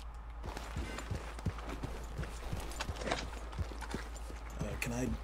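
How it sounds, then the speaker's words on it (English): Horse hooves clip-clop at a steady walking rhythm in the Red Dead Redemption 2 game world, the evenly spaced thuds running under quiet background sound and brief speech. "Oh my god, yeah, horse."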